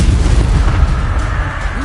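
The Incendio fire spell in Hogwarts Legacy bursts into a heavy, rumbling fiery explosion, loud and sustained and close, filling the whole moment.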